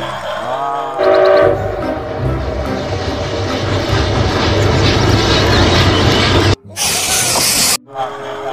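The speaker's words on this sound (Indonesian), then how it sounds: "Wah, kereta apinya mengitari mainan." A battery-powered toy Thomas train runs a loop around other toys, giving a loud, steady motorized whir and rattle throughout, with brief harsh bursts near the end.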